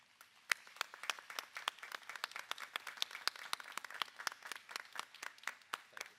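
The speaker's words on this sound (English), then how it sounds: "let's give them a round of applause" Audience applause at a college commencement ceremony as trustees stand to be recognized, steady dense clapping from a large crowd lasting several seconds without voices.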